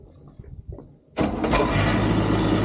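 A quiet rustle gives way to a boat engine with a sticking starter cranking and catching, then settling into a steady, loud running rumble.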